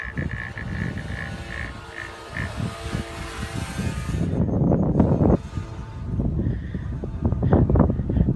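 Gusty wind buffets a ski chairlift at Thredbo, a broad low rumble that swells and stays loud, mixed with rattling and clanking from the lift machinery.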